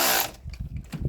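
A power tool runs down intake manifold bolts on a GM 6.2 V8, a loud whirring burst that stops abruptly, followed by a few light mechanical clicks and knocks close by.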